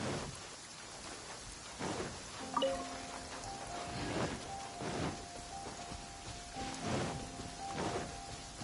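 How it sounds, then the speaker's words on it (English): Steady rain pours down in the Genshin Impact video game, a dense hiss of drops on surfaces broken by a few soft rumbles, with a faint tone drifting over it and no voices. "Taking a stroll in the middle of a downpour certainly rouses the spirit."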